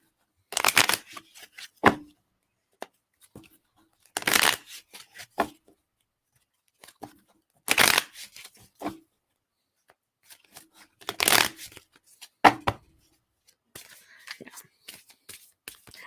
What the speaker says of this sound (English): I like to give them a good shuffle